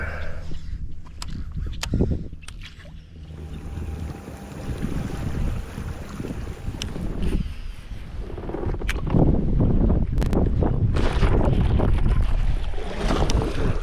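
Strong wind buffeting the microphone with low rumbling gusts at a kayak launch, building louder toward the end, over faint water sounds.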